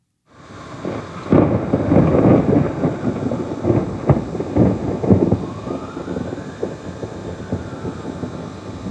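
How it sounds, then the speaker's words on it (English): Deep rolling thunder from a summer thunderstorm rumbles on and off over steady rain, with a faint siren wailing in the distance toward the end. "A lovely sound. That is a summer thunderstorm."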